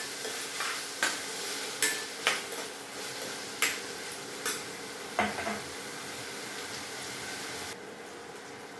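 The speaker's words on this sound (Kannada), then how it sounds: "ಈರುಳ್ಳಿ ಟೊಮೊಟೊ ಎಲ್ಲ ಮಾಡಿದೆ ಒಗ್ಗರಣೆ ಈ ಥರ" Onion and tomato tempering fry in a pan with a soft, steady sizzle, while sharp spatula taps and scrapes strike the pan at irregular intervals, close by.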